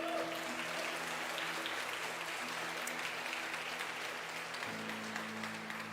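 A church congregation applauds during an evening service, a dense, sustained wash of clapping from a large crowd that continues throughout, with steady low sustained tones running underneath.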